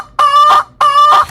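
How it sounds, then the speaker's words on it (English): A sampled chicken cluck used as a click sound in an Ableton Live set, two loud, clean clucks in quick succession, each a short rising squawk with bright harmonics, alone with no voices. "I do have a secret chicken that lives in this track, and you may have encountered the chicken click before"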